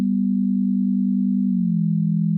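A synthesized harmonic layer for a drum and bass bassline, played with effects on: one steady, pure low tone that holds evenly and then bends slightly downward near the end, heard alone.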